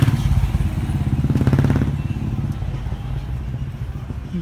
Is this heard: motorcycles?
yes